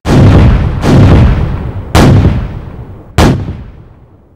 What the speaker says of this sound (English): Man the cannons! Fire!